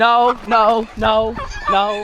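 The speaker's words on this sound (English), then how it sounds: "Oh God, I hear a chicken." A chicken loose outside its pen clucks and squawks loudly and close by in four quick bursts, with no voices over it.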